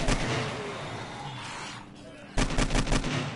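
AK rifle fired at zombies in a video game, with dense bursts of rapid gunfire, a brief lull of softer game noise, then another loud volley near the end.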